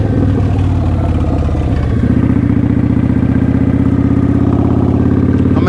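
A motorcycle engine runs steadily and loud throughout a riding practice session, a low, continuous drone with clattering mechanical texture that thickens slightly after about two seconds, with no talking.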